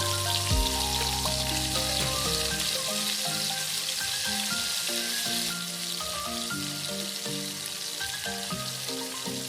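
Onion paste frying in a pan for a village-style sour hilsa curry, a continuous dense sizzle like steady rain, close and even, with a brief stir near the start.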